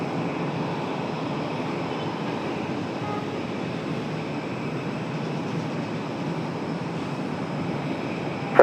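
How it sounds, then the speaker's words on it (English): A FedEx heavy jet taking off from the runway at Raleigh-Durham International Airport, a steady distant engine roar holding level throughout with no talk. "See FedEx 785 come off the runway right there in just a minute"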